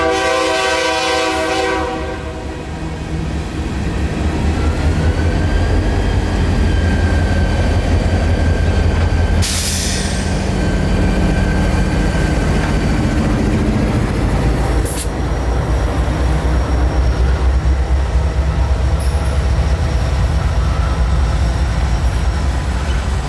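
A coal train rolls loudly and steadily through a rail junction, its horn sounding near the start, with continuous rumbling and clattering of wagons close by throughout.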